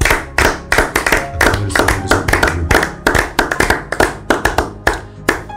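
A church congregation claps in acclamation at a morning prayer gathering, the hand claps steady and loud and coming quickly in a rhythmic pattern, with no talk over them.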